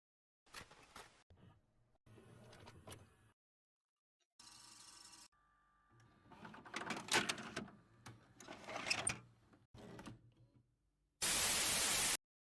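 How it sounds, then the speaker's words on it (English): Bursts of harsh white noise static used as a game sound effect, ending in a loud, sustained hiss that sits among other short clicks and scratchy edits. "we're going to use the white noise"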